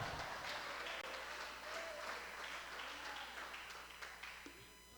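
A church congregation applauding during a Wednesday service, faint scattered clapping spread through the room under murmuring voices, softening slightly toward the end.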